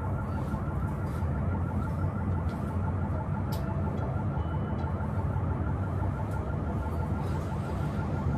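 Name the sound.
alarm ringing outside a house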